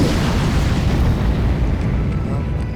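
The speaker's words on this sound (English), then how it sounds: "Isabella can cast a spell with Fireball." A Fireball spell explodes in the fantasy strategy game Age of Wonders III, a dense, sustained roaring blast with heavy low rumble that fills the whole moment at steady loudness.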